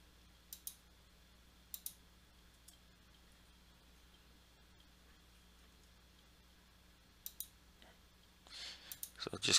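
A few sharp computer mouse clicks in Fusion 360, isolated and quiet against a low hum, spaced out in pairs with a brief rustle near the end.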